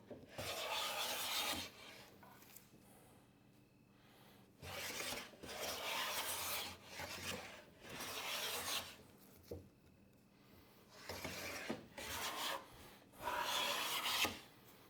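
Hand plane shaving wood stock, each stroke a broad rasping swish; several strokes come in bursts with short pauses between them, close and moderately loud, no talking.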